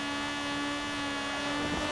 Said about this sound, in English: We sound like a bug, man. It just sounds like a mosquito coming down the road